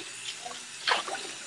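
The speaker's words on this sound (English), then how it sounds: "I'm doing dishes right now." Tap water runs steadily into a sink while dishes are washed, a continuous hiss with a brief louder splash and clink partway through, heard close and alone.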